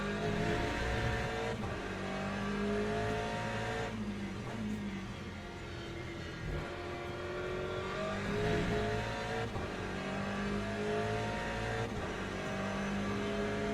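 Racing hypercar engines in the Le Mans Ultimate video game drone and rev in wet conditions at Monza, a continuous loud engine note with rising and falling pitch as gears change, with no talking.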